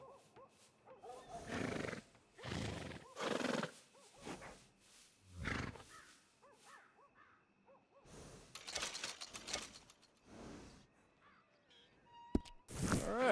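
Horse whinnies and snorts from Red Dead Redemption 2, several loud bursts spread across a quiet stretch, with scattered rustling and a sharp click near the end.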